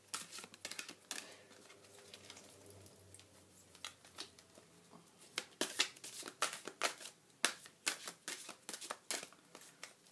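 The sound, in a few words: shuffling and drawing soul coaching cards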